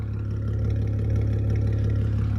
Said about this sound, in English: Here is what the car sounds like with the valves closed